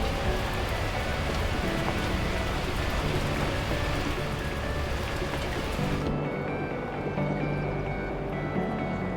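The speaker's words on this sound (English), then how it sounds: "At that moment, the heavens opened up, unleashing torrential rain." Steady, dense rain hiss from the video game Beacon Pines, a constant wash of heavy downpour that thins slightly toward the end, with no talk over it.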